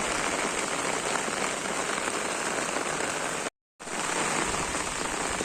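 Steady rain falls over village fields near a fish pond, a constant hiss of drops on water and ground that briefly cuts out for a moment before resuming, with no one talking.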